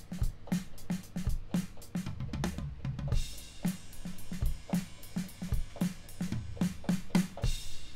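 Drum sounds triggered from a keyboard, a busy groove of kicks, snares and hi-hat taps, close and moderately loud with no speech.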